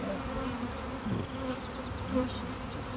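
Honey bees buzz steadily at a busy beehive, a dense, continuous drone with a few individual bees passing close, and no voices.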